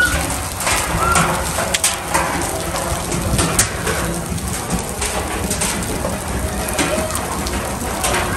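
Hail and snow fall outdoors, making a steady, dense patter of pellets striking surfaces close by. A few faint bird calls and brief voices sound in the background.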